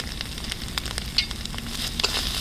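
Red chili powder and turmeric frying in a pan for a hilsa fish head and taro leaf dish, a soft steady sizzle with scattered crackles and occasional stirring clicks, fairly quiet.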